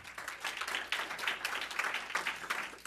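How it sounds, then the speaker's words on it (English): Audience applause at a State of the State address at Daemen College: steady, fairly quiet clapping from a crowd, even and continuous throughout. "Let's give all of them a round of applause again."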